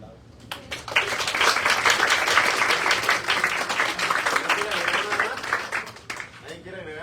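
An audience at a university physiology lecture breaks into applause, a bright burst of many clapping hands building quickly and holding for several seconds before thinning out, with a voice speaking briefly near the end.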